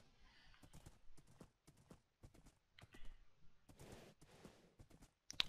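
Horse hooves clip-clop in the Minecraft video game, a series of sharp, close hoof steps in uneven groups with brief gaps between them.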